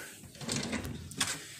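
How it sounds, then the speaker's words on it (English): A dresser drawer in a hotel room slides open with a scraping, mechanical rustle, ending in a small bump near the end, fairly close and moderately quiet. "Right here is some more storage, just like a dresser drawer."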